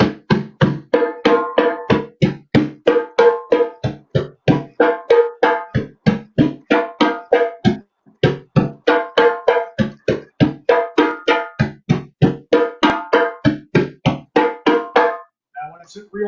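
Hand drum played in a slowed-down water rhythm of six beats, three tones and three slaps, with sharp evenly spaced strikes repeating steadily and close up throughout.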